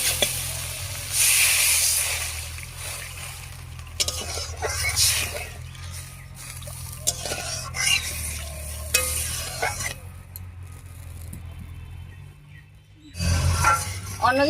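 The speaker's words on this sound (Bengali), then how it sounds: "কষানো হয়ে গেছে, এবারে ঝোলের জন্য জল দেব।" Water added to a hot pan of spiced fish curry paste, a Bengali China puti fish dish, sizzling and hissing loudly with stirring clatter, fading toward quiet before a final burst of sizzle.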